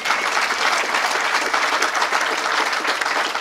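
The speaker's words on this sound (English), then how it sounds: "let's have an applause for our friends at UNC Wilmington" Dense, loud applause from an audience at a marine sciences center event, steady and sustained for the whole stretch with no talk over it.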